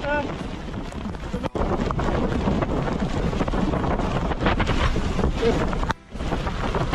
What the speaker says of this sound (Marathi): तर गगनबावड्यामध्ये अति प्रचंड असा पाऊस चालू झालेला आहे, खूप असा पाऊस चालू आहे